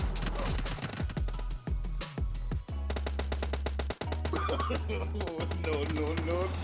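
Rapid bursts of automatic gunfire in the video game PUBG Lite crackle in quick succession, then continue over a droning electronic background, with a voice talking along.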